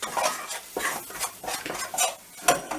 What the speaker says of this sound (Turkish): Ve bunu bir güzel kavuruyoruz tereyağımla beraber.